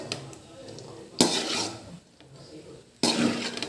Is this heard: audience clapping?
no